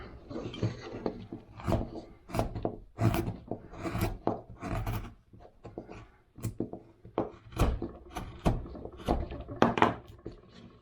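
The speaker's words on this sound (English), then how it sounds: "still just trying to shape the back of this hat. Come in here with this big gouge here." A big gouge carves wood while shaping the back of a carved hat, producing a series of rough, rasping scrapes and cuts in irregular bursts, close and fairly quiet, alone without talk.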